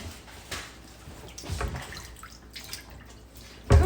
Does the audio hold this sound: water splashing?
yes